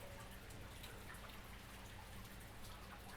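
Water drips from freshly rinsed hydro-dipped handgun parts hung up to dry, a faint, steady patter of small drops over a soft wash of background noise.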